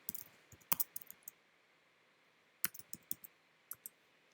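Computer keyboard keys tapped in two short bursts of quick, light clicks separated by a pause, close and quiet in a silent room.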